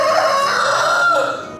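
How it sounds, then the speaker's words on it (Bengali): A rooster crows close by on an island in Malaysia, one long sustained call that fills the clip and fades slightly at the end, with no talking. "আমার সামনে একটা মোরগ ডাকতেছে"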